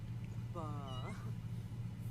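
A cat meows once in a horror-style video game, a short, clear, tonal cry over a steady low background hum, fairly close.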